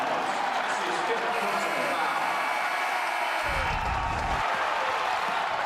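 A crowd roars and cheers at an Alabama at Auburn college basketball game after an alley-oop finish. The loud, steady din fills the whole stretch, with a low rumbling swell near the end and voices mixed in.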